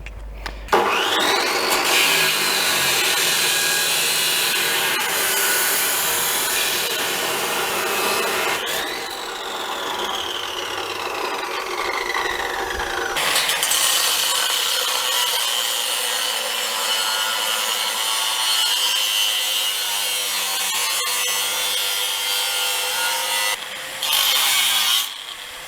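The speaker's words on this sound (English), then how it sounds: "I have to make a cut the length of that piece of steel" Power tool cutting along the length of a piece of steel for a rebuilt battery powerwall; a loud, continuous grinding screech runs nearly unbroken, its pitch shifting as the blade bites, starting abruptly and stopping near the end.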